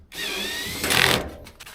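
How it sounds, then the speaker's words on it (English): Cordless drill set to its lowest clutch setting driving screws while a dryer drum belt is replaced, a steady close whine that rises in pitch and loudness before stopping with a few clicks. "cordless drill on the very, very lowest clutch setting"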